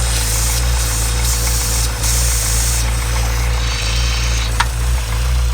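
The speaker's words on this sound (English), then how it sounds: "As you can see, it was boost leaking" A car engine with a boost leak runs steadily nearby after dyno runs, a loud continuous rumbling drone with a faint hiss, ending abruptly.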